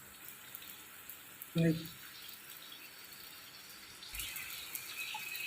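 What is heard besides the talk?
rain falling outside a house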